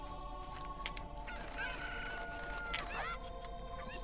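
A chicken, or cucco, squawks and clucks in The Legend of Zelda: Ocarina of Time, with repeated fowl cries over steady game background sound; nobody speaks.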